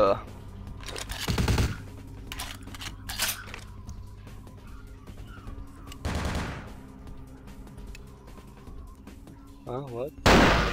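Explosions and gunfire in Vampire the Masquerade Bloodlines: a few heavy, booming blasts spaced several seconds apart, with scattered sharp shots between them and brief low talk.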